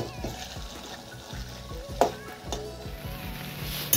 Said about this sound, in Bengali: এটাকে এবার নাড়াচাড়া করে দেবো।